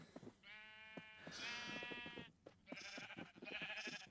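Sheep bleat in a blocky survival video game, several wavering calls in quick succession, moderately close and clear with no talking.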